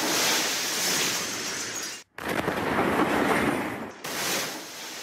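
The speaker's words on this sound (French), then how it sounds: "Des explosions simultanées." Meteorite explosions over Chelyabinsk, Russia: loud, sustained roaring blasts with a shattering, rumbling texture, cut into three abrupt segments with brief silences between, and no voices.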